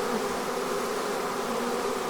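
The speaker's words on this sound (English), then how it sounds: "We got some bees." A swarm of honey bees gathers at a hive entrance, giving a dense, steady buzzing hum that fills the space close by without letup.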